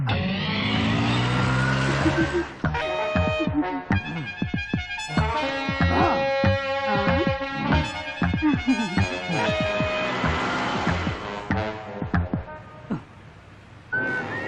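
A van speeds away fast in a Telugu film scene, its engine noise and a brief screech of tires blended into a busy, loud soundtrack of music and effects.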